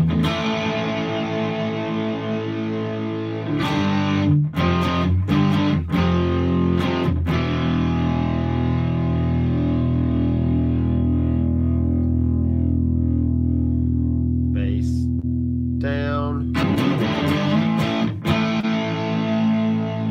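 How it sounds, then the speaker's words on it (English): Electric guitar through a Headrush rig on the cap mod overdrive model, with sustained overdriven chords ringing out, a few quick muted strums and pauses, and a buzzy harmonic tone, played alone and close. "now that we have a good overdrive sound there"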